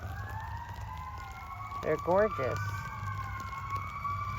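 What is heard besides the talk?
ambulance siren passing outside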